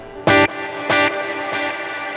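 A reverb effect set with about 25% pre-delay on a punchy musical hit: three sharp bright attacks, each followed by a dissolving reverberant tail, played alone with no talking.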